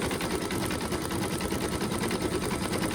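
An embroidery machine stitches out an in-the-hoop design from a flower-themed bloom pattern, giving a steady, even mechanical whirring hum that stays constant throughout, moderately faint.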